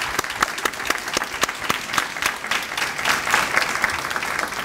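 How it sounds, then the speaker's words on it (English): A room of guests at a youth leaders' reception gives the parents a warm round of applause, dense steady clapping close by that carries on without a break. "Let's give the parents a round of applause."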